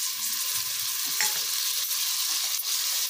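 Chopped tomatoes for vegetable pulao frying in a pan, a steady bright sizzle up close with a few soft stirring taps.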